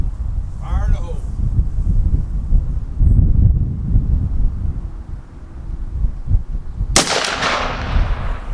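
Shotgun firing 3.5 inch buckshot through a Rectifire choke on an outdoor range: one sudden, very loud blast late in the clip that rings out and decays, following a stretch of wind and ambient noise.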